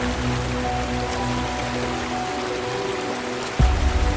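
Bubbles and rushing water from humpback whales bubble-net feeding in Antarctic seas, a steady dense wash of watery fizz and splashing with a sharper surge near the end.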